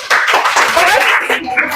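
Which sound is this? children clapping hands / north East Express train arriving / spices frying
children clapping hands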